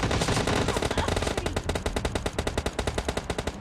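Rapid automatic fire from a UMP-45 submachine gun in the PUBG Mobile Lite video game, a loud, steady burst of closely spaced shots running through the whole stretch with no talk over it.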